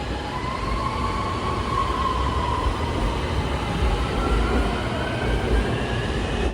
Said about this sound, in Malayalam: ഇതിന്റെ താഴിലൂടെ തന്നെയാണ് ട്രെയിനും കടന്നു പോകുന്നത്.